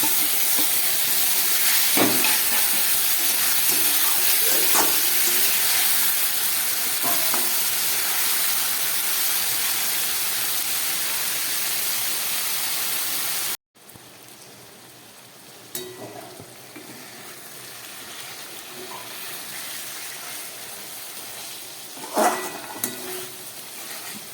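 Spice-rinsed water hits hot oil in a pan of frying fish curry, a loud, dense, continuous sizzle and steamy hiss that drops abruptly to a quieter bubbling fry with occasional pops.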